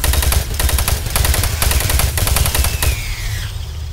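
Rapid automatic gunfire in the first-person shooter Doom 3, loud dense bursts of shots in quick rhythm for nearly three seconds, then cutting off into a fading electronic whine.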